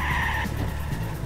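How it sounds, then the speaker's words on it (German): A car drifts with screeching tires in the Go Trabi Go racing video game, a short engine whine and skid squeal close up. "Habt ihr den Drift gesehen?"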